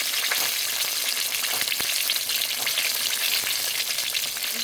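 Chicken wings fry in a pan with a dense, even sizzle that holds steady throughout, close up, with a few faint clicks of movement in the oil.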